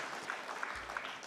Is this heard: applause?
yes